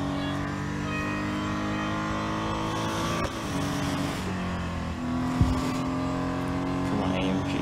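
Mercedes-AMG GT R engine in the Real Racing 3 racing game, a steady continuous drone with a brief sharper burst midway, running loud under a voice talking.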